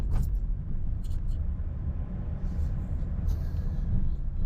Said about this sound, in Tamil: இப்போ தேர்ட் கியர் போட்டு நான் டிரைவ் பண்ணிட்டு இருக்கேன்